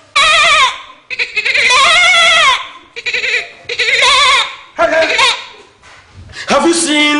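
A person imitates a goat's bleat in a series of loud, wavering, nasal cries, several separate calls with short gaps, the last one rising into a laugh-like bleat.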